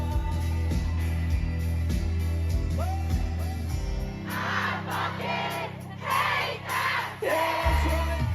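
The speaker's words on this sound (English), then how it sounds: "The crowd joins in with what has become a fan favourite moment during their concerts" A concert crowd at a show chants along in a call and response, many voices singing and shouting together over the band's music, rising loud in bursts of group yelling.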